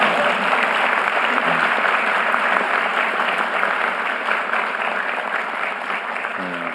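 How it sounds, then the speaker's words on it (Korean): An audience at a town hall meeting in Jeju applauds steadily and loudly, a dense wash of clapping that holds for several seconds and eases slightly toward the end. "박수도 한번 안 치시나요?"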